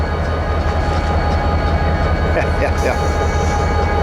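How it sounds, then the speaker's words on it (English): An EMD SD40-2 diesel locomotive rumbles past close by, a loud, steady low engine drone with rail noise running throughout and a few brief higher tones near the end. "when was the last time we heard a good SD40-2 noise like this?"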